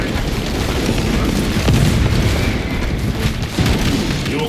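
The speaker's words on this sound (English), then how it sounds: "Deploy frag grenade!" A frag grenade detonating amid a dense, loud battle in Warhammer 40,000: Space Marine 2, a heavy boom buried in constant roaring gunfire and rumble that fills the whole stretch without a break.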